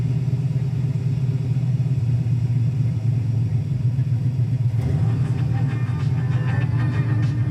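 A 1967 Pontiac Firebird with its 400 engine runs steadily at idle, a deep continuous rumble close by, with light clatter and background noise coming in near the end.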